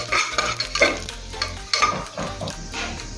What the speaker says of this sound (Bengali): তেলের মধ্যে দেবো ফোড়নে গোটা জিরে, তেজপাতা আর শুকনো লঙ্কা। ফোড়নটা একটু ভেজে দেবো।